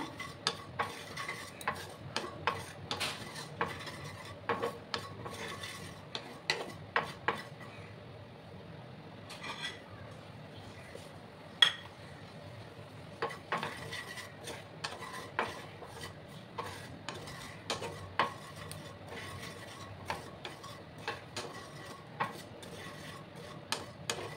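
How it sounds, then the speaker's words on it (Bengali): Spices dry roasting in a pan for a vegetarian potato curry, stirred with a utensil that makes frequent light scraping clicks and taps over a faint, quiet background. "দিয়ে এটাকে হালকা ড্রাই রোস্ট আমি করে নিচ্ছি"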